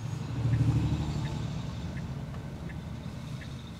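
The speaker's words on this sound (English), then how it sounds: "There's a massive truck coming." A massive truck passes on the road, a low engine rumble that swells early and then slowly fades, heard from inside a car with faint periodic ticking.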